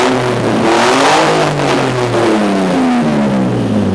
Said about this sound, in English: 350Z with open headers. Go. Rev it.